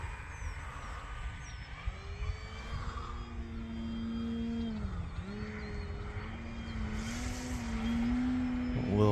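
An FMS Pitts RC model airplane makes a slow pass into the wind, its electric motor whine steady and droning, dipping briefly in pitch and then rising toward the end.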